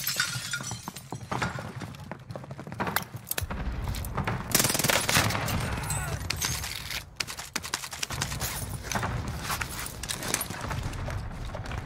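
Rapid bursts of PPSh submachine gun fire in Warzone's Rebirth Island, loud and close, with sustained automatic volleys broken by short pauses and overlapping impact and shattering noises.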